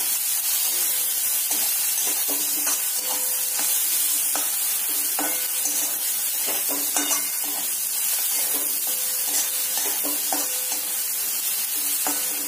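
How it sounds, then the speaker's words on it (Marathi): Tomatoes being mashed in oil for desi-style pasta sizzle loudly and continuously in a pan, a dense hiss with scattered soft scraping from stirring throughout. "टोमॅटो सुद्धा छान आपण मॅश होईपर्यंत हलवून घेऊया"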